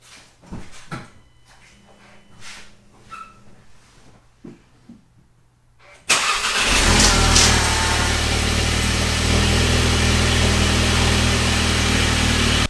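VW MK7 GTI fitted with a Stage 1 tune, quiet shuffling and clicks before the engine cranks and catches about six seconds in, then a steady, loud idle close by.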